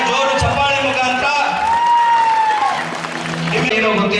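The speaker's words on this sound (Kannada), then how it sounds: "ನೀವೆಲ್ಲ ಒಂದ್ಸಲ ಜೋರಾಗಿ ಎದ್ದು ನಿಂತು ಚಪ್ಪಾಳೆ ಕೊಡಬೇಕು ಅಂತ ಕೇಳ್ಕೊಳ್ತೀನಿ" A speech audience rises for a standing ovation, with dense sustained clapping and crowd noise filling the hall alongside tonal music for the full few seconds.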